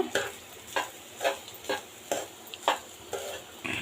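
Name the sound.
stirring salt and garam masala into chicken fried rice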